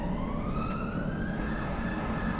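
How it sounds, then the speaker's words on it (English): An emergency vehicle siren wails continuously, with a slowly rising tone over a dense, steady wash of traffic-like rumble, heard at a distance and unbroken by speech. "The sound of the siren"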